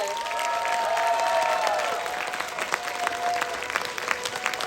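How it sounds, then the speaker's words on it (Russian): Studio audience applauds a regional team from Siberia, Novosibirsk region, a dense steady wash of clapping with a few cheering voices, fairly loud and continuous, thinning slightly toward the end. "Ваши аплодисменты."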